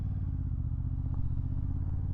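A Honda 750 E-Clutch motorcycle idles and putters steadily at low speed while making a U-turn without the clutch, its engine a close, even, low rumble throughout with no talk.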